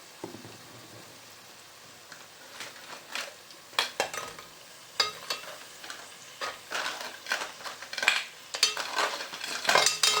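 Crabs tip into a hot frying pan for curry, setting off crackling sizzle bursts along with clattering and scraping of utensils, growing busier and louder toward the end.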